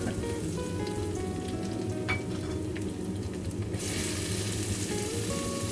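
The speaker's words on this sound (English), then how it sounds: "Add garlic. Bloom the spices in hot oil." Garlic sizzling hard in hot oil in a wok, a dense continuous crackle and spatter close up, steady and loud from start to finish with no voices.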